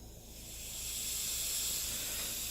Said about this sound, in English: you turn your gas on. You should be able to hear it turn on when it does